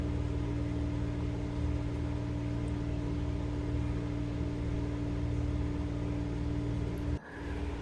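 Bottle gourd leaves with chillies are ground to a paste in an electric grinder, a loud, steady motor whir that cuts off abruptly near the end.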